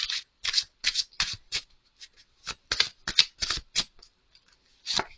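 Tarot cards being shuffled by hand in a series of quick, crisp riffling bursts with short pauses between them, close and fairly loud with no talking.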